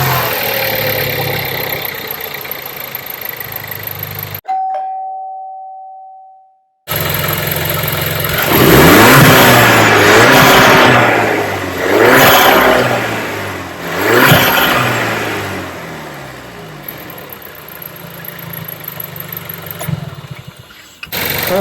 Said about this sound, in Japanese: 最初、コンピューターに学習させるために少しの間アイドリング状態にしておきます